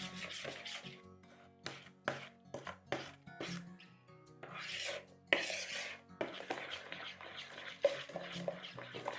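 A spoon stirs 45 grams of brown sugar into a bowl for tiramisu frozen yoghurt, breaking up lumps with repeated scraping and rubbing strokes at close range, mostly alone with a few brief bursts.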